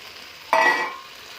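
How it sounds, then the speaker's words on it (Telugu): Pre-cooked noodles hit a pan of frying gobi (cauliflower), setting off a sudden loud sizzle that fades over about half a second, close up. "అలా గోబీ కొద్దిగా ఫ్రై అయినాక అందులోకి నూడిల్స్ ముందుగా రెడీ చేసి సిద్ధం చేసుకున్న నూడిల్స్ను అందులోకి వేసేయాలి"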